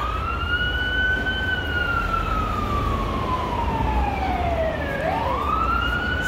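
A loud wailing police siren sweeps up and down in a Hollywood street, then shifts into a faster yelp near the end, over constant road noise.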